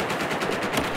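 Rapid gunfire in the video game Battlefield 4, a dense, steady stream of shots filling the whole second with no voices over it.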